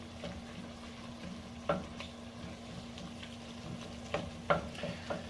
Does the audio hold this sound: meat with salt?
yes